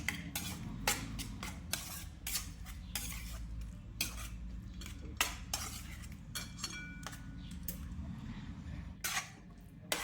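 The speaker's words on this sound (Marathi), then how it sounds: "व्यवस्थित आता हे सर्व हलवून घ्यायचं" A utensil stirs cardamom-sugar powder into sweet potato sheera in a pan, with repeated close scraping and clinking strokes against the metal over a steady low background hum.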